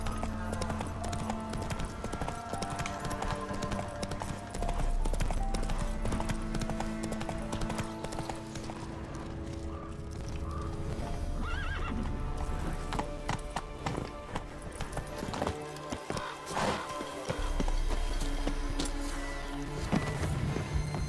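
A horse gallops in the video game The Witcher, its hooves clip-clopping in a fast, steady rhythm throughout, with an occasional neigh and bursts of other game sounds layered over the hoofbeats.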